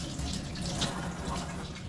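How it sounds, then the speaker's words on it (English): Vegetables are rinsed under running water in a kitchen sink, a short, soft splashing and trickling that stays fairly quiet and even. "So for now, I'm going to start by washing the vegetables."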